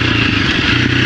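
A 350 dirt bike heading out on a mountain trail in Idaho, its engine a loud, close, continuous rough drone with clatter through the brief moment.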